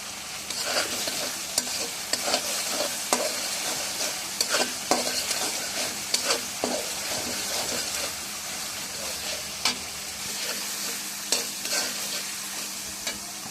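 Spices including bay leaves sizzle and fry in a pan for a Bengali mutton curry, a steady hiss broken by repeated scraping stirs of a utensil, close and moderately loud with no talking.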